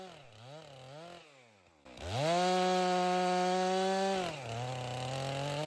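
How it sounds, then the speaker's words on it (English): A chainsaw cuts madrone logs into small firewood pieces. The engine idles unevenly, then revs hard into a loud, steady high whine that eases off slightly near the end. "I'm cutting these logs into small pieces of firewood"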